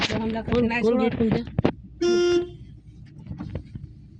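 A single short car horn honk sounds clearly, right after a burst of people talking, followed by quieter mixed background noise.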